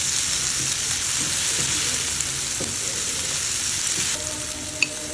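Tomatoes frying in a pan while making chicken rolls, a steady close sizzle with faint stirring clicks, ending with a brief sharp tap near the end.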